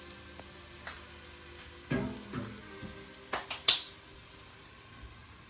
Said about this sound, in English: You can hear them sizzling up really good.